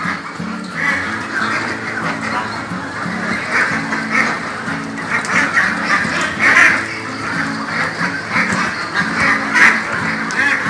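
Crowd of ducks on a breeding farm in Kế Sách, Sóc Trăng keeps up a steady, noisy quacking chorus, nearby and unbroken for several seconds, with louder bursts rising from the flock.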